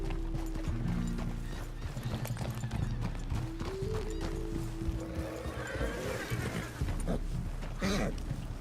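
A ridden horse trots steadily with rhythmic clip-clopping hooves and creaking tack, a whinny rising near the end, close and clear over outdoor ambience.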